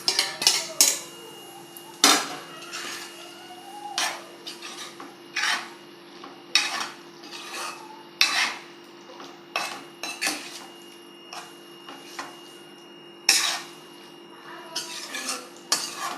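Boiled potato pieces turned with a ladle in a pan for potato tomato curry, a series of separate scraping and rasping strokes of metal against the pan, each a second or so apart, close and clear, with no talking.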